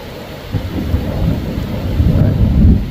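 Thunder rumbles low and continuous through steady rain in an open pasture during a thunderstorm, swelling louder toward the end with no voices.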